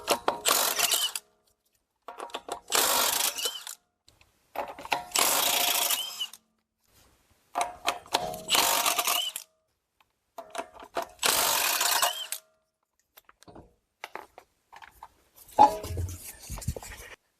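A wrench spins off 20 mm wheel nuts on a Chrysler Town and Country minivan in a series of about six or seven separate ratcheting, whirring bursts with short silences between, close and fairly loud.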